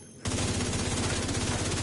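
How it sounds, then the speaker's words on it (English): Sustained automatic gunfire from an enemy unit called the Chunga in a video game bursts in suddenly and rattles on in a rapid, even stream of shots, loud and close. "you can probably hear the gunfire of the Chunga coming"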